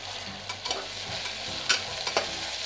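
Onions and tomato fry in a pan while a spoon stirs them, giving a soft steady sizzle broken by a few sharp scraping clicks, close and fairly quiet.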